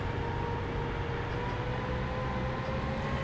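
Train Simulator 2018 train on the Glasgow Queen Street to Edinburgh route via Falkirk High, powering up under full acceleration, with a steady loud rumble and a faint tonal whine running unbroken throughout, no voices.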